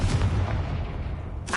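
A Confringo fire spell blasts in Hogwarts Legacy as a dense, continuous rumble of bursts with heavy low booms, ending in a sharp fresh crack.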